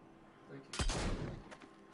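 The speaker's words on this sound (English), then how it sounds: "I'm gonna shoot her through the window." A single sharp gunshot fired through a window in the Arizona Sunshine video game, a loud close crack with a short rumbling tail, followed by a fainter second hit.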